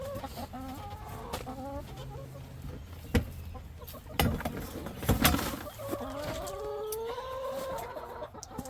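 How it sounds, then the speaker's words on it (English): Several chickens cluck and murmur nearby in a coop, with scattered louder squawks and a few sharp knocks against a low background hum. "I'm gonna go check on the chickens, gather the eggs"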